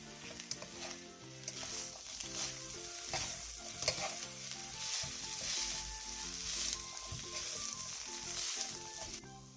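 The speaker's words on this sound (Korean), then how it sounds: "소금 3분의 2 티스푼과 양파, 청양 홍고추를 넣고 골고루 섞일 정도로만 볶아주세요" Onion and red chili stirred and fried in a pan for Korean side dishes, a steady sizzle with scraping stir strokes under light background music, no voices.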